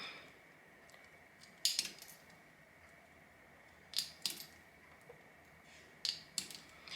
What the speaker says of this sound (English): So just go ahead and cut them really short.